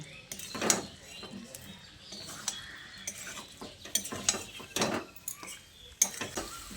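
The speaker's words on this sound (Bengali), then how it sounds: "আলু ও এঁচোড়টা দিয়ে মশলার সঙ্গে খুব ভালো করে মিশিয়ে নিচ্ছি।" Fried potato and jackfruit being mixed with spices in a pan: repeated scraping and clattering strokes of a spatula against the pan over a faint sizzle, close and uneven in rhythm.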